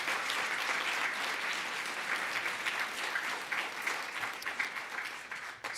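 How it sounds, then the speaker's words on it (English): Audience applause at an inauguration ceremony fills the clip with dense, steady clapping that stays even throughout and fades slightly at the close, with no voices over it. "Let's give Keudy one more round of applause."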